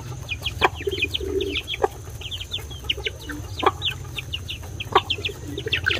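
Chickens cluck repeatedly in short, chattering bursts from several birds at once, with a few sharper louder calls scattered through six seconds, all over a steady low background hum.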